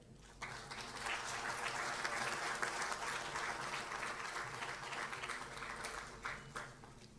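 Loud, sustained applause from a workshop audience fills the room, steady and dense for several seconds before easing slightly at the end.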